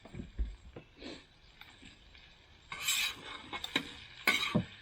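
Food being mixed with garlic Parmesan seasoning in a pan, heard as a series of close scraping and clattering stirs that come in uneven bursts, growing busier and louder toward the end.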